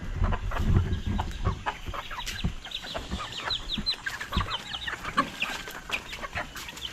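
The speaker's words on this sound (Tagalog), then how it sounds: "magpapakain tayo ng ating mga alagang manok" Pet chickens cluck steadily and close by, with busy overlapping calls and a rooster among the flock, with no one speaking.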